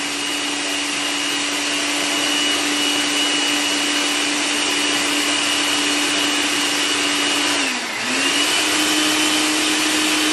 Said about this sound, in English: we got this cheap bone blender